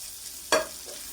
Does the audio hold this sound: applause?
no